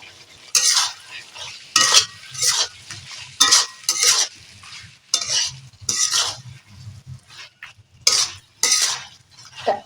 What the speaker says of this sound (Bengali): মশলা পুরোপুরি ভাজা হয়ে গেছে দেখুন এতে এবার দিয়ে দেব ঢেঁড়স আর আলু